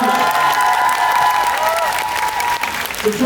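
A theatre audience after a musical performance claps loudly and continuously, with cheering and scattered shouts blended into the dense applause for the whole stretch.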